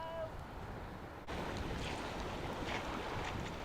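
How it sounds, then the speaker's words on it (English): Brown, churning sea waves and strong wind on a dull, bright beach at Mappleton on the East Yorkshire coast, a steady broadband roar of surf with gusty wind buffeting the microphone, continuous and fairly close. "Waves are churning all sand up."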